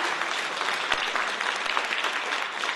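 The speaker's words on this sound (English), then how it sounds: "let's give Tina a round of applause for coming back to report" Audience at a business club session applauds for Tina, a dense, even wash of clapping from a room of people, steady and moderate in level with no voices on top.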